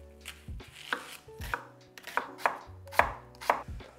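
Knife chopping half an onion for a soy-based sauce, about eight sharp, close cuts against a board in an uneven rhythm, with no talk.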